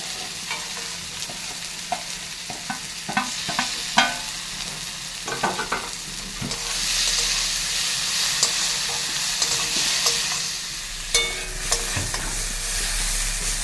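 Ground coriander, cumin, red chilli and turmeric being sautéed for a duck egg curry: steady frying sizzle in a pan with repeated scraping and clacking of a spatula, louder hissing bursts as the spices are stirred.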